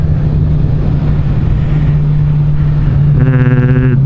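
Kawasaki Z1000SX touring motorcycle riding, a steady engine drone with heavy wind rush throughout, and the engine note rising into a stronger, harmonic-rich pull near the end.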